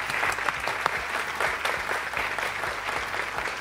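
A crowd claps steadily throughout, a dense patter of many hands with no pauses, fairly close and even in loudness.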